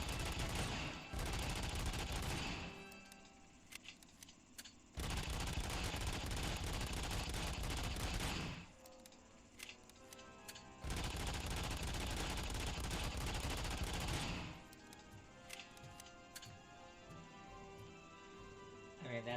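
Heavy bursts of gunfire in a RoboCop video game come in three long, loud sustained volleys separated by quieter stretches of scattered shots and mechanical noise.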